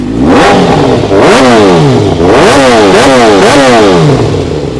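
A used big-bike motorcycle engine, with slip-on exhaust, idles loudly close by and is blipped through several rising-and-falling revs in a steady rhythm, without talk.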